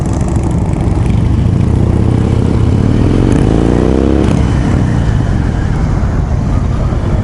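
A Harley-Davidson Low Rider motorcycle rides steadily with loud, continuous engine drone and wind roar, rising briefly as it accelerates mid-ride, with no talk.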